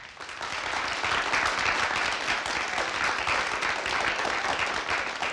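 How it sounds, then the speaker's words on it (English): Warm, steady applause fills a large conference keynote hall, with many hands clapping at once in an even wash that rises quickly and holds for several seconds. "let's give that a round of applause"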